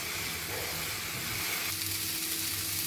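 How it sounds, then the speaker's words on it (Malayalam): Cauliflower frying in coconut oil over a high flame, a steady close sizzle and hiss of moisture cooking off, continuous and even throughout with no talk. "വെള്ളമുള്ളത് ഹൈ ഫ്ലെയിമിലിട്ട് നമുക്കിതൊന്ന് വറ്റിച്ചെടുക്കാം."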